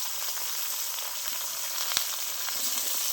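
Chopped ridge gourd hits a pan where potatoes have been fried, setting off a steady, even sizzle of frying with a few small crackles, close and continuous.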